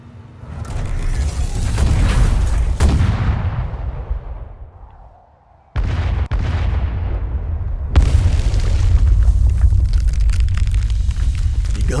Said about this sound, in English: The guns continue to fire, and the ice continues to crack